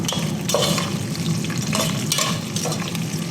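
Brinjal, onion and green chillies frying in a pan for dalcha give a steady, close sizzle, with a few brief stirring scrapes breaking through it.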